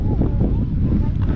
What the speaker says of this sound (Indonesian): Anginnya lumayan nih.